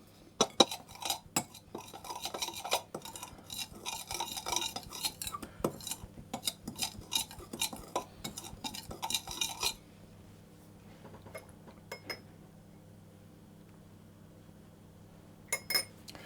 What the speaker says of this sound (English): I'm going to mix that through until it becomes a paste